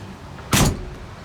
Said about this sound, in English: Even the doors, look how beautiful they open.